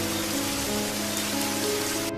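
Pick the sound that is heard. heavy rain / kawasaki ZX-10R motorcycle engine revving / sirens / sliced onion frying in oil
heavy rain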